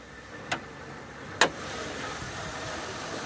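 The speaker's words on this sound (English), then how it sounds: "Engine runs very, very smooth." A 2002 Lincoln Continental engine idles smoothly with a low, steady hum, joined by two brief sharp clicks near the start and no talking.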